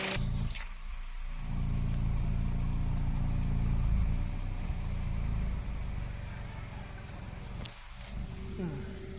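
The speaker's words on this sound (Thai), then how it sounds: "จากความเสียงท่อนะครับ จะมีรอบตัดนิดหน่อย ดู ปุ๊บปุ๊บปุ๊บนะครับ" A 2008 Toyota Altis running on gas idles with its exhaust rumbling steadily up close, the note showing a slight misfire as the revs stumble; two brief dips in loudness break the otherwise continuous low drone.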